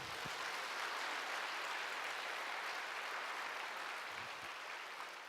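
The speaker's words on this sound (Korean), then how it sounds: "박수 한번 해주세요." A church congregation claps together for a visiting pastor and his wife, a dense, steady wash of applause sustained throughout and fading slightly toward the end, with no voices over it.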